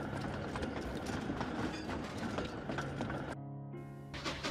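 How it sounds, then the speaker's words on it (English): Thomas the Tank Engine pulling a train out in the Trainz video game, a steady rumble of rolling wheels and clicking rail joints with mechanical hum, continuous and fairly close, ending in a brief tonal engine whine. "So Thomas took his and Diesel's train and set off for the recycling plant."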